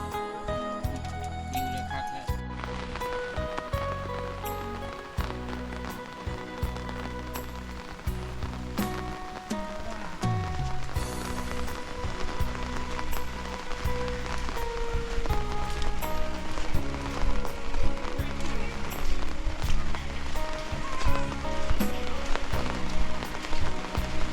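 Rain falls steadily on dense forest foliage, a continuous hiss of drops on leaves that grows louder and heavier over the span, with no voices.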